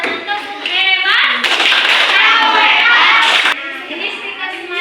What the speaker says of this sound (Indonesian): kita apresiasi kepada teman kita yang sudah presentasi kedua dengan tepuk hebat